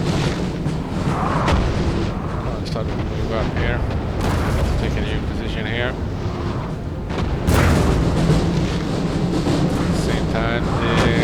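Cannon and artillery fire in a Napoleon Total War campaign battle: dense, continuous booming and rumbling volleys under battlefield din, with a louder surge of blasts near the end.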